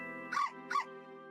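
A dog barks twice in quick succession in My Time at Portia, the short yips standing out over steady background game music.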